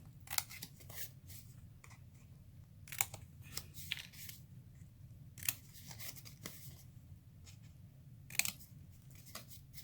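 Scissors snipping the corners off a folded paper treat bag at an angle, a series of quick, crisp cuts close by with soft paper rustling between them, fairly quiet overall.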